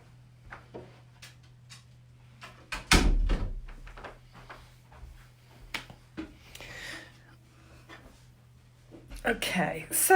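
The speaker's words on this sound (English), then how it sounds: "I'm just going to close the door actually" A room door is pushed shut with a firm thud partway through, followed by quieter handling knocks, in an indoor space during a home skincare session, with soft breathing and small movements around it.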